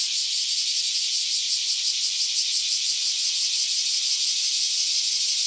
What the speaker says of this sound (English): I really don't even know if you can hear me over these cicadas